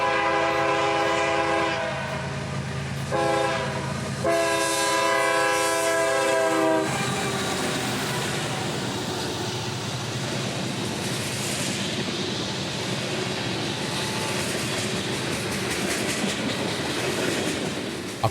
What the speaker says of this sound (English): Racing northbound towards Flomaton would be M602, another New Orleans to Waycross freight